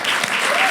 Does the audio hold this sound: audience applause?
yes